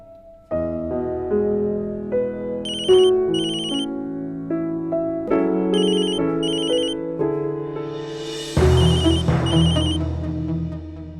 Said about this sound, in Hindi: ये फोन कॉल